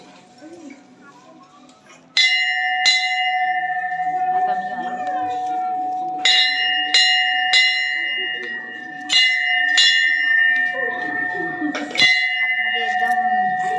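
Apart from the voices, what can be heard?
temple bell being rung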